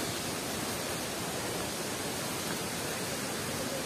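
The Janggam Buana waterfall in Pekon Marga Jaya, Pagar Dewa, Lampung, rushes in a constant broadband roar, even and unbroken, heard alone without voices.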